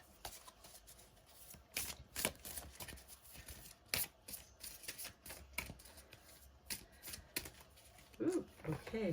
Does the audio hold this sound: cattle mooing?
no